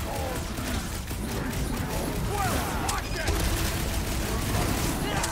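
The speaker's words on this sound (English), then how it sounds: "I gotta shoot homeboy up there" Continuous gunfire and shooting in the Guardians of the Galaxy game, steady loud rattling shots mixed with clanks and impacts throughout, with a voice talking over the action.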